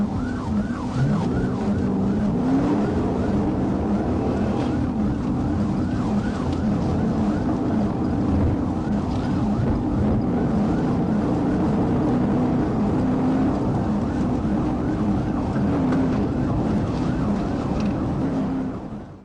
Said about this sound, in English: The blue lights and sirens only pushed the driver to go faster.